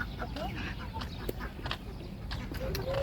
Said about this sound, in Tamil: இது வாத்துக்குட்டி